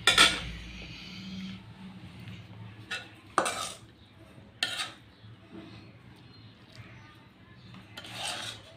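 Fried egg and cabbage curry is spooned onto a plate: a sharp metallic clatter, then several scraping strokes of a spoon against the pan and plate, spaced a second or two apart, with no talking.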